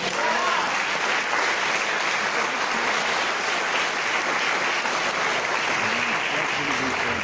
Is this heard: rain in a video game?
no